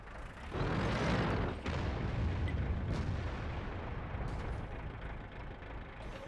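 A heavy artillery blast in the World of Tanks game, with an IS-7 tank in the battle, booms with a deep rumble that rolls on and fades slowly under a steady low engine drone.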